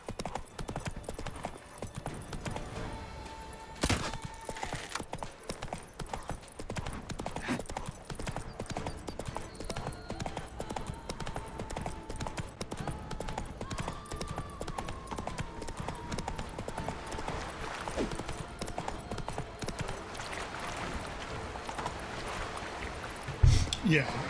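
Roach, a horse in The Witcher 3: Blood and Wine, gallops through a race with steady, close clip-clop hoofbeats, a brief whinny and a faint musical score beneath.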